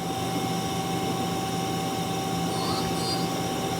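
Mazak QTN-250MS CNC turning center, new in 2005, with its main spindle turning at 1,000 rpm: a steady, even mechanical hum with a faint high whine, quiet and constant throughout.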